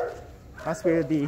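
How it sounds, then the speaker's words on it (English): Police dogs at a dog training facility bark in short bursts toward the end, close and fairly loud, while someone talks over them. "police dogs are being trained and kept. And you can hear them barking."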